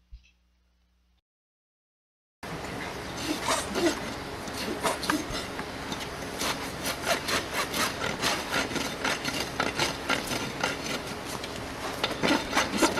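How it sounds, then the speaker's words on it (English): A new rasp files a horse hoof in steady, repeated rough scraping strokes, close and loud, after about two seconds of silence at the start. "This is a new rasp."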